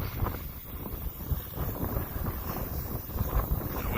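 Gusty wind buffets the microphone at an RC plane flying field, a steady low rumbling roar with swelling gusts and no voices.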